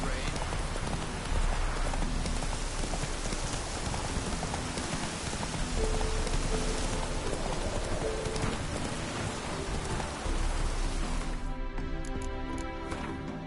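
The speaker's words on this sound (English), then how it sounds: "no use doing any work in this rain." Steady rain pouring in The Witcher 3, a dense continuous hiss of drops on surfaces with soft hoof clip-clop mixed in, loud and unbroken throughout.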